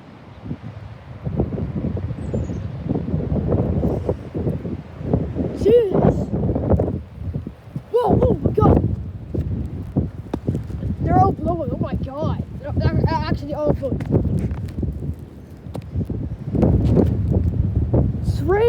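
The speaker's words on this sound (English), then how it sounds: "raining again, windy." Strong gusting wind outdoors on a rainy day buffets the microphone in heavy, uneven waves, with voices talking intermittently over the roar.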